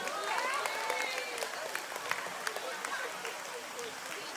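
An audience claps in scattered bursts of sharp slaps, mixed with crowd noise and a voice talking over the start.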